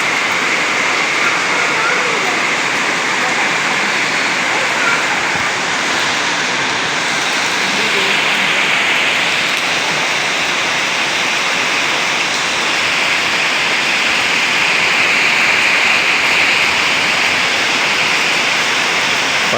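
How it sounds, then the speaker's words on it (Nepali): Heavy morning rain falling in Butwal makes a dense, continuous hiss that fills the whole stretch at an even loudness, with a voice faintly present beneath the downpour. "बुटोलमा बिहानी पख एकदम पानी परेको छ।"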